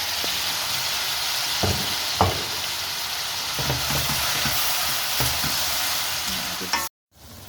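Beef shin and onion frying in a pan for Corfu pastitsada, a steady loud sizzle with a few stirring scrapes and clinks throughout, ending in a brief cut.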